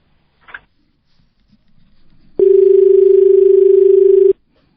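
A steady telephone line tone sounds loudly for about two seconds on a live phone-in radio programme, cutting in abruptly and stopping just as sharply, after a brief knock and faint background murmur.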